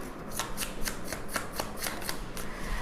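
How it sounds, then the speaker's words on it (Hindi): Tarot cards being shuffled by hand, a rapid run of crisp riffling bursts at an even rhythm, close and clear with no talking. "let's shuffle one more time"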